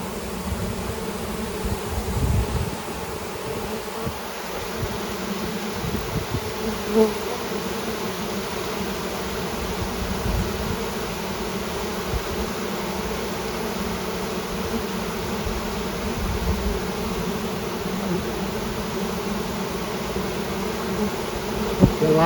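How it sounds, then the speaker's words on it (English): Swarm of honeybees buzzing in the air around a hive box outdoors as a colony is installed, a continuous droning hum with individual bees passing close, steady and moderately loud with no talking. "Got a lot of bees in the air. I'm sure you can hear them."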